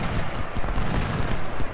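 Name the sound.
cannon fire in Ultimate General: Civil War video game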